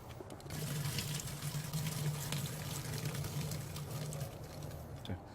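Plain water pours steadily into a large pot over a six-pack of beer, a continuous close gushing splash for several seconds before easing off.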